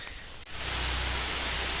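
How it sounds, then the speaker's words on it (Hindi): Heavy rain falls at night on a mountain road in Sikkim between Gangtok and Nathu La. After a brief quieter moment, it becomes a dense, steady roar of close, loud hiss, with no voices. "बारिश बहुत तेज हो गई है, हम लोग यहाँ पास रुक जाना चाहिए।"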